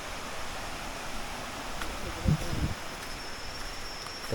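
A steady wash of flowing river water heard from a distance, below a forest trail near Taka Melor waterfall in Malaysia, with a brief low thump partway through.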